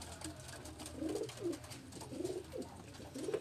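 Racing pigeons on a rooftop give soft, repeated coos, faint and close, in a few short rising-and-falling phrases.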